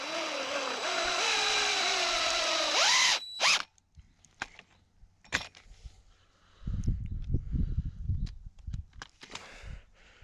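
A power drill whines with rising pitch for about three seconds while driving a fence insulator, stops with a clack, then scattered clicks and rustling handling noises follow.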